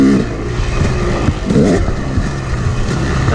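A Yamaha YZ250 two-stroke dirt bike engine running rich, revving loudly and close with rising and falling buzzy pitch and no speech over it.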